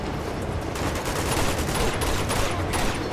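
Gunfire in the video game Uncharted 2: a dense, sustained burst of rapid shots, loud and continuous throughout, with no voices.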